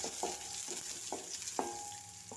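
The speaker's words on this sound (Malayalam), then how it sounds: "വെളുത്തുള്ളി ഇട്ട് ഇഞ്ചി ഇട്ട് ഒന്നിളക്കി, ഉള്ളി ഇട്ട് ഒന്നിളക്കി," Onion, garlic and ginger fry in a pan with a soft steady sizzle, while a spoon scrapes and stirs in a few distinct strokes close by.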